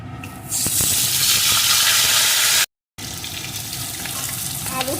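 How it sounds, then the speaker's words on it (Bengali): Cut potato pieces hit hot oil with spices already fried until red, raising a loud, steady hiss of frying that breaks off for a moment and then carries on. "এখন এর ভিতরে দিয়ে দেবো একটা টুকরো করে কেটে রাখা আলু"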